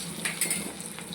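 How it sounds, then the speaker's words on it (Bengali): Onion with garlic and black cumin fries in hot oil in a pan, giving a soft, steady sizzle with a few light clinks of a stirring utensil. "এটাকে আমি ভালো করে দু মিনিট ভেজে নেব"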